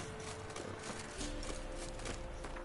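Horse hooves in The Witcher 3 clip-clop in a steady, quick rhythm at close range, mixed with other game sounds and a continuous background bed.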